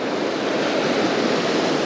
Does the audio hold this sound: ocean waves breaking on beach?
yes